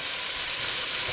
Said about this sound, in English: that's sauteing in there